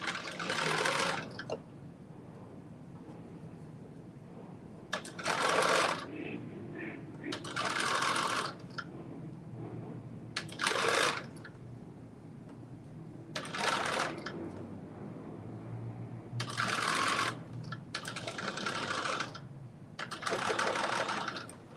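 A home sewing machine stitches a McCall's pattern garment in about seven short bursts of fast mechanical whirring, each separated by quieter pauses with low background noise.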